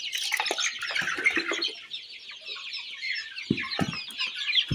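A flock of about a hundred native chickens clucks busily while eating a midday feed from pots, with dense overlapping chatter and a few sharper calls and pecking knocks, close by and without human voices.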